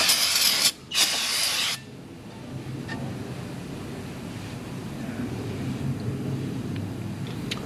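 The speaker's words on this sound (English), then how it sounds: "we're gonna go ahead and hit it with some brake cleaner and clean it up" Brake cleaner blasts onto a brake rotor on a 2022 BMW X5 40i in two loud, close hissing bursts, with a short break between them. Quieter handling noise follows.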